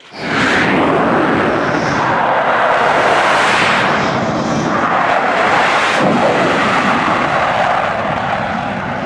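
Rafale fighters and Hawkeye propeller aircraft training at a naval air base produce a loud, continuous engine roar that swells and shifts as they fly past nearby.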